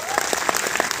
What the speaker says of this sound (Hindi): तालियां आप सब लोगों के लिए।